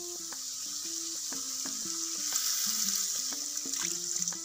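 Steady sizzling of goat liver frying in a pan, with faint stirring clinks and scrapes coming through at close range.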